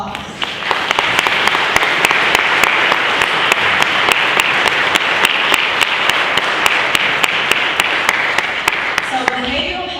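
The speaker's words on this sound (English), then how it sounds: "Everybody give them a round of applause." Loud, sustained clapping from an evening community gathering in Ferguson, Missouri, many hands applauding together close by, with a few crisp individual claps standing out above the steady roar until it tapers at the end.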